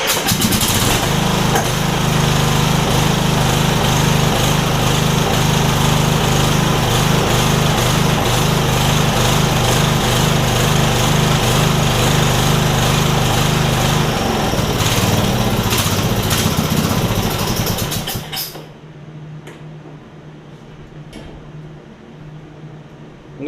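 A Yard Machines riding mower's small engine runs loud and steady at high throttle, a close continuous drone that holds for most of the stretch before suddenly dropping to a much quieter idle near the end.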